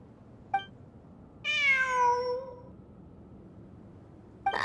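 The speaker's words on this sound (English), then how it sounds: "It really is a cat." A cat in the Genshin Impact video game gives one clear drawn-out meow, close and fairly loud, with brief faint clicks before and after in an otherwise quiet scene.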